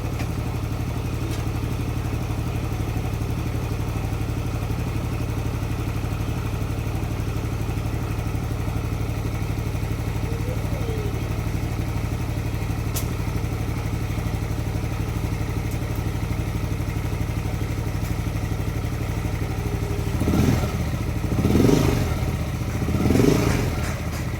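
A Yamaha Aerox or Nmax scooter engine, tested with its starter relay, holds a steady low drone close by, then surges in two or three short bursts near the end; no talking.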